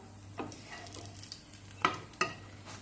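Mango malpua batter, made with ripe mango, wheat flour and semolina, fries quietly in a kadai: a faint, soft sizzle under a low hum, with two sharp clinks near the end.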